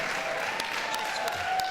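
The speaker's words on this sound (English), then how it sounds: "what are they clapping about?" Audience clapping fills the room at a steady moderate level throughout the short stretch, a dense wash of many hands with no break.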